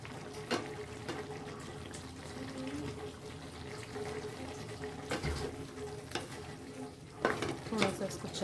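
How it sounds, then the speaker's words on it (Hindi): A spoon stirs jackfruit curry in a pan with soft scraping and clinks against the metal under a faint sizzle, and sharper knocks come now and then. A voice talks lightly in the background. "थोड़ा सा इसको चला देंगे"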